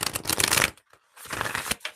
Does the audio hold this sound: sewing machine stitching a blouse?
no